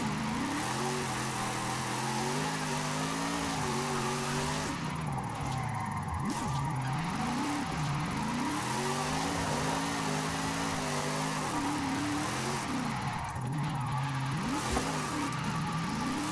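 A drift car's engine revs hard in sixth gear in Forza Horizon, a steady loud drone that climbs and dips in pitch as the throttle rises and eases, continuous with no talk.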